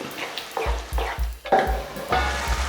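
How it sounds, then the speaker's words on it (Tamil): Thick chana masala bubbling and popping in a pan, a steady series of low plops under a light sizzle, close and fairly loud. "5 நிமிஷம் இல்லை ஒரு 10 நிமிஷம் இது கொதிக்கட்டும்"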